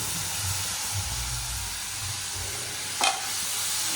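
Sliced kantoli (spiny gourd) sautéed in a pan, giving a steady, fairly quiet sizzle and hiss heard close up with no talk, plus a single brief scrape of a spatula near the end.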